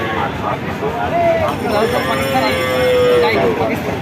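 A Sindhi dairy cow lets out a long, drawn-out moo close by at a cattle market in Jessore, amid the murmur of people talking in the background.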